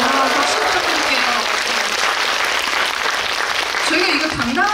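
An audience at a film screening Q&A for The Moon claps continuously with dense, steady applause, while voices speak and call out through the clapping.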